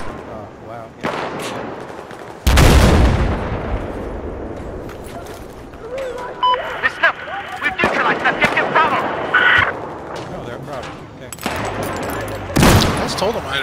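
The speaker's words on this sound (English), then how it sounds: "Watch as you come up, they're shooting." Gunfire in the video game Battlefield 4 during close-quarters play on the Lumphini Garden map, with loud bursts of shots and blasts recurring under and between voices talking.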